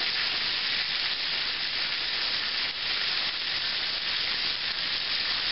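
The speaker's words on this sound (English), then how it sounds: "I believe that frying has slowed dramatically, and that is almost ready." Steady, bright sizzling of chicken fried steak frying in a pan, an even crackling hiss continuing throughout without talk.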